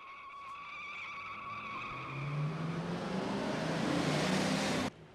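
A car skids to a stop on a deserted street, a loud rising tire squeal over engine noise that swells across several seconds and cuts off abruptly.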